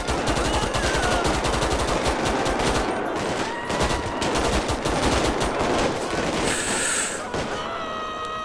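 Rapid automatic gunfire from GTA 5 with the LSPDFR police mod, loud and sustained bursts of shots rattling almost continuously, with a brief lull and game sounds near the end.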